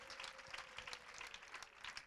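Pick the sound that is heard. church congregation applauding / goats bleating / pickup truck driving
church congregation applauding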